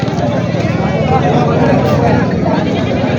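Goats bleat repeatedly amid the crowd noise of a busy goat market in Parbhani, with voices and chatter running underneath the whole time.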